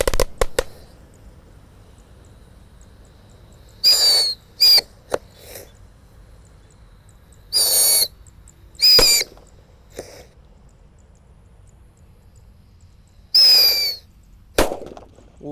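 A pack of mercon tikusan firecrackers lit together in a hole in the ground, giving bursts of shrill whistling screeches and pops, several overlapping hissing squeals scattered across the stretch with quiet gaps between them.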